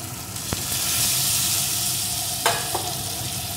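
Fried eggs are stirred into a bubbling masala for egg curry, a steady loud sizzle broken by a couple of sharp spatula knocks against the pan.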